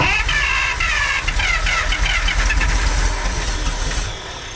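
The starter of a 1948 Pontiac straight eight cranks the engine in a steady, rhythmic whirring churn that runs loud and close for about four seconds without catching, then tapers off.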